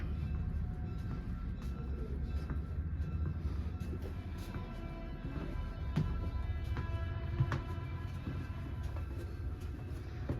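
Locomotive 8202 moving at a railway museum, heard from inside a preserved dining car as a low, steady rumble with faint clanks and rail noise throughout.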